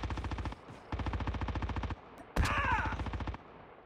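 Automatic gunfire in the Call of Duty video game, two sustained bursts of rapid evenly spaced shots, then a sharp impact followed by a whining, ringing burst, loud and close.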